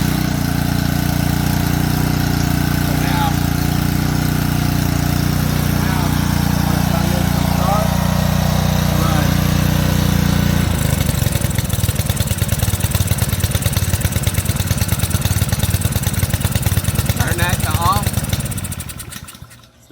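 A Ryobi power washer's small gas engine, just cleaned out at the carburetor, runs steadily with a loud buzzing drone, shifts to a choppier, pulsing beat partway through, and then cuts out at the very end.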